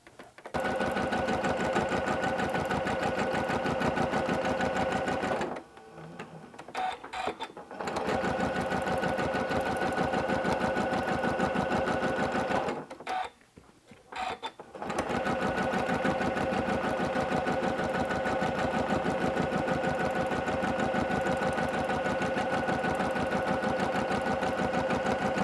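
A sewing machine runs steady and fast while free-motion quilting a flower swirl pattern, a continuous loud mechanical whir that pauses twice briefly before resuming.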